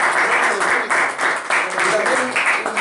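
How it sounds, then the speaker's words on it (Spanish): Audience applause at a live literary event in a forest setting, bursts of many hands clapping in pulsing waves with voices talking over it. "Un gran aplauso a Rodrigo."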